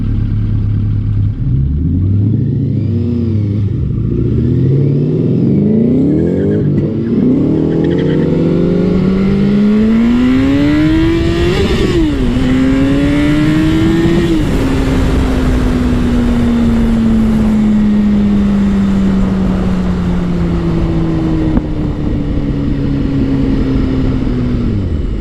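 A motorcycle races past a GT car, its engine climbing hard through first and second gear with rising, loud revs, then settling into a long, steady high-speed drone mixed with heavy wind roar.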